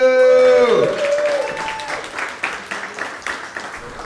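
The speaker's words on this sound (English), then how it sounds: "Everybody give it up for the very funny Mark Shalapoo!" Comedy club crowd breaking into applause and cheering for a comic's introduction, loud at first with a voice trailing off, then settling into dense clapping with scattered sharp claps.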